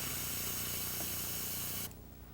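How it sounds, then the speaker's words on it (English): A spray bottle hisses steadily as it sprays into an airbrush, one continuous close burst lasting nearly two seconds before cutting off abruptly, leaving quieter background noise. "Go ahead and spray it in there."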